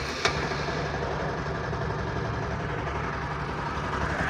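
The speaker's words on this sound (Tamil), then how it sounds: "இப்போ நம்ம பைக்கை ஸ்டார்ட் பண்ணலாம்." A motorcycle engine idles steadily after a brief starting click, a continuous mid-pitched rumble heard close by with no talking, during a check on a radiator fan that keeps running.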